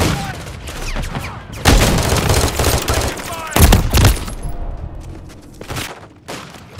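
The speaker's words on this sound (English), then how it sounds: "I'm taking effective fire!" Incoming gunfire and explosions in Call of Duty MW3 on the Rust map, loud dense volleys of rapid shots and heavy booms close by, with faint shouting in between.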